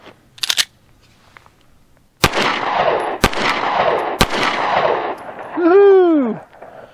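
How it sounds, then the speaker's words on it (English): A SIG P365 pistol fitted with a Wilson Combat grip module fires three loud, sharp shots outdoors, about a second apart, each leaving a ringing decay, followed by a brief whooping voice. "let's put a few rounds through this and kind of get the feel of it."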